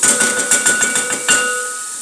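Steady hissing sizzle with bursts of crackling as food sautés in hot oil, close and fairly loud with no talking.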